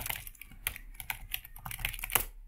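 Rapid, uneven clatter of keys on a computer keyboard as commands are entered into a command-line tool, steady close-up tapping with a few louder strikes and no speech.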